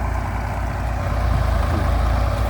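A 200-horsepower diesel engine on a Thai-built wheeled sugarcane harvester chugs steadily nearby, a loud low rumble with a regular throbbing pulse and no talk.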